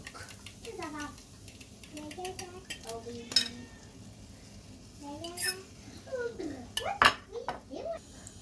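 Ground beef and egg stirred in a pan, with utensil scrapes and clinks against the metal, a faint sizzle underneath and a voice talking over much of it.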